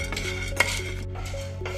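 Chana dal being stirred while dry-roasting in a pan over a low flame, with close scraping strokes and light clinks of a utensil against the pan, steady and repeated.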